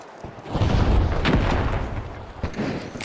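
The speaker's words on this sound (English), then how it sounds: "Tossing a frag." Frag grenade blast in a multiplayer shooter game: a heavy, booming low rumble swells early and rolls on for a couple of seconds, with a few sharper cracks and pops trailing after it.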